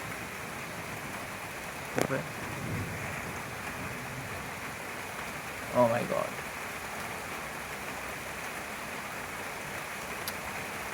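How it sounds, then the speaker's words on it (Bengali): Heavy rain pouring outdoors, a dense steady roar of falling water throughout, with a few brief knocks and a short exclamation from a voice partway through. "এরকম জোরে জোরে বৃষ্টি হচ্ছে"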